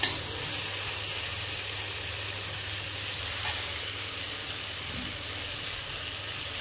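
Tomato-based gravy for chicken sizzles steadily in a hot pan at a birthday party, a close, continuous hiss with one brief knock partway through.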